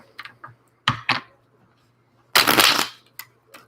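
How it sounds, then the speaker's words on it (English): Tarot cards are shuffled in quick riffling bursts during a reading. There are short crisp flutters, then a longer loud riffle, followed by a few scattered taps. "I messed up my shuffling again."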